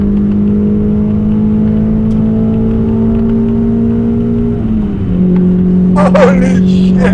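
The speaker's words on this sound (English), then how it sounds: "It just keeps revving." A Toyota MR2 engine holds a high steady whine, drops in pitch as it shifts, then climbs again, loud and close.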